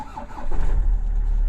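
A Volkswagen Crafter van engine cranks and catches, settling into a steady low idle rumble that swells after the first half second and stays loud and close.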